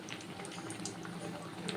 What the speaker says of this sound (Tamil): எண்ணெயில் அப்படியே புஷ்ஷுன்னு இப்படி வரும்